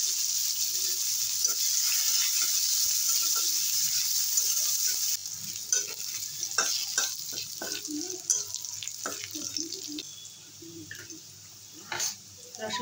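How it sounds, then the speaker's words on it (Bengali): Dry red chillies and garlic hit hot oil in a tempering for a jute-leaf and eggplant dish, giving a loud, steady sizzle that turns into scattered crackles and pops as the spices fry. "দিয়ে দেবো শুকনো লঙ্কা, দিয়ে দেবো রসুন ফোড়ন"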